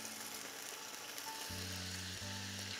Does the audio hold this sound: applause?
no